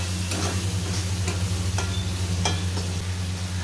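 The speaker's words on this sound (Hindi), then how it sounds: "यहाँ देखिए मसाला हमारा अच्छे से भुन गया, तेल भी अलग हो गया, हमने इसे लगातार चलाते हुए भुना है" Masala fries in oil for Rajasthani methi sabzi, with a steady sizzle over a low hum and a few light, spaced scrapes from continuous stirring.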